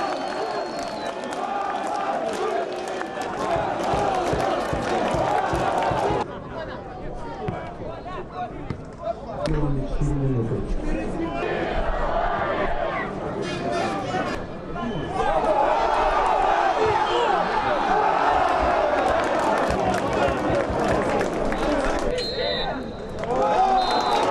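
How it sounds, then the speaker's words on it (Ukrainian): A football crowd at a local match applauds and cheers after a 3-3 draw, a broad rumble of clapping and shouting that rises and dips throughout, with a commentator's voice talking over it. "аплодисменты за ничью"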